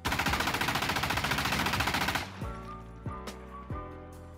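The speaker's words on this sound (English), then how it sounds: "So, let's go ahead and run the recoil test. Alright, testing the VHS recoil in 3," Rapid automatic fire from a VHS rifle during a recoil test in a video game, a fast even burst of shots for about two seconds, followed by a few single ringing shots with echoing tails.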